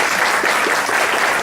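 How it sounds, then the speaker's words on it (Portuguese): A church congregation applauds a band during a worship service, giving a brief, dense burst of many hands clapping together at an even, full level. "Vamos aplaudir esse pessoal aí, gente."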